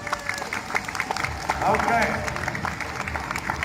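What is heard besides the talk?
street performance audience clapping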